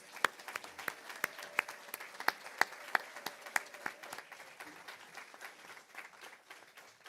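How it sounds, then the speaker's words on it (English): Audience members at a volunteer awards ceremony clap for the winners, a fairly quiet, sparse applause with a few sharp, distinct claps standing out early before it settles into softer, thinner clapping. "Let's give them all a massive round of applause."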